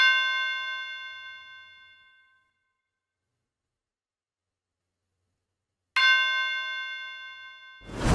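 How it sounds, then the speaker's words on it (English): A tubular bell sample in FL Studio, soaked in vintage reverb, strikes once and rings out into silence, then chimes again about six seconds later with a long bright decay. "I just added this simple tubular bell, nothing crazy really."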